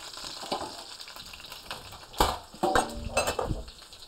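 Lamb shanks sizzle in a hot pan as they are flipped, a steady frying hiss broken by a few loud scrapes and clatters of the pan and utensil, close up with no talk.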